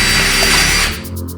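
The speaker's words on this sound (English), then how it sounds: "Mark and drill." A power drill bores holes in a miniature metal fire escape frame with a loud, close, continuous whir and grind. The tone drops as the drill slows near the end.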